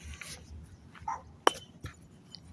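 Brief glassy clink from a piece of glass underfoot on an evening outdoor walk, a single sharp tick at mid-clip, faint and close, with a dog's scattered noises and rustling around it.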